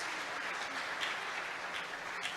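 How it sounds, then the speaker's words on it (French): An audience claps continuously at a talk show event with a Miss BPX 2018 guest, a dense, even burst of applause with no pauses. "je vous demanderai d'applaudir Sandra Edouard pour sa générosité"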